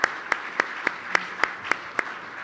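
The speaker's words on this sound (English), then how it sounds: "Let's give applause" Conference panel audience applause, though only a few distinct claps ring out at an even pace, close and crisp, more like a single pair of hands than a crowd.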